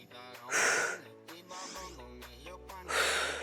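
Heavy breathing during a strength training session, with three loud, close, breathy exhales spaced about a second apart over soft background music.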